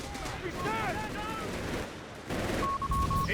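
Machine gun fire during a Company of Heroes 3 battle, with support weapons raking infantry; loud bursts of rapid shots under continuous battle noise and talk, a steady tone sounding near the end.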